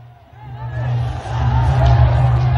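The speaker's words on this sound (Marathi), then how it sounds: "सभेला तुफान गर्दी या ठिकाणी झालेली होती" A large crowd at a political rally for Rahul Gandhi and Akhilesh Yadav in India roars as a dense, swelling hubbub of many voices, growing louder and steady throughout.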